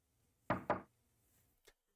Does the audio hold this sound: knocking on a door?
yes